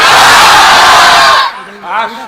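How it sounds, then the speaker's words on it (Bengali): A packed crowd at a religious sermon roars a chant in one loud, sustained mass shout that breaks off, followed by a brief trailing voice. "এখন আপনারা দিবেন লিল্লাহি তাকবীর"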